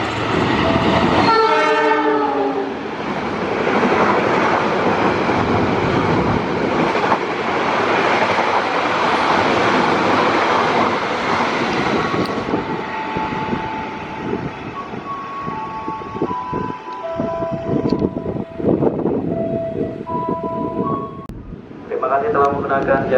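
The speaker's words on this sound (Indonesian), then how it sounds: "Jalur 2 kereta api Sembrani melintas" A Sembrani passenger train roars past close by on track 2 of an Indonesian station with a loud, sustained rumble and clatter, opening with a blaring horn blast, then fades as a station announcement plays.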